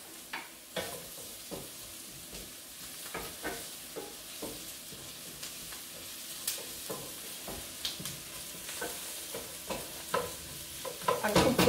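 Garlic fries with onions caramelized about five minutes for a lentil stew, giving a soft continuous sizzle under regular spoon scrapes against the pan that get louder and busier toward the end.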